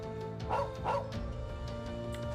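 A dog barks in the Trails of Cold Steel 2 video game, two quick yappy barks under steady game music and ambience.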